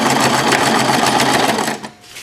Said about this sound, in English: So let me go ahead real quick and start sewing this one.